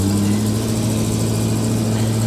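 The engine of a 1970 Chevy Blazer with a Turbo 350 transmission hums steadily while driving, a constant low drone with road noise and no pauses.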